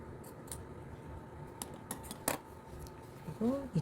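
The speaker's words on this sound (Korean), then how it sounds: "가위질이 이렇게" Scissors snipping rayon fabric for summer trousers, a few crisp isolated cuts spaced irregularly at close range in a quiet room, followed by brief faint speech at the end.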